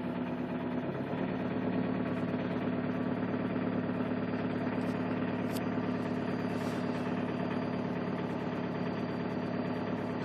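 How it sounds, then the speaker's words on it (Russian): 2.2-litre diesel engine of a 2018 Chevrolet Captiva idling close by, a steady loud clattering rumble that holds even for the whole stretch with no speech. "Вот вам и дизель."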